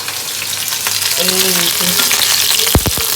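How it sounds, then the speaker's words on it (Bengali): Bitter gourd frying crisp in a pan hisses steadily up close, with a short burst of speech midway and a couple of sharp knocks near the end. "কড়া করে ভাজবো করলাটা"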